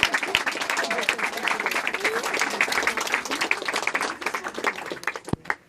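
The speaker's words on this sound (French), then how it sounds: "On applaudit." A French inauguration crowd at the Excelsior studio claps steadily in dense, sustained applause for several seconds, fading slightly toward the end.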